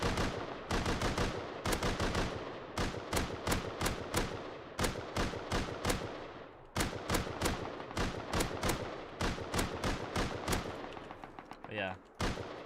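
Rapid bursts of gunfire from a shooter video game ring out loud and close, one sharp report after another in near-steady rhythm through most of the stretch, with a brief lull midway and a different short effect near the end.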